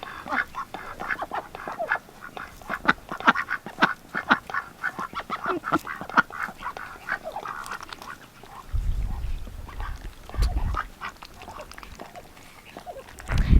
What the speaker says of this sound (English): And here are the duckies.